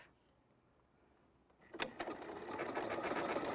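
Sewing machine starting up after a quiet pause and running a programmed decorative stitch pattern, a rapid steady mechanical whir and needle patter close by, building then holding level.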